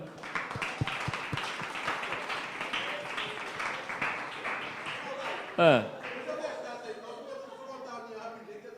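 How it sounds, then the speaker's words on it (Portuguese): Scattered claps at the start fade into a murmur of voices and light applause, with a brief whistle-like rising tone near the end. "Vamos aplaudir o Senhor?"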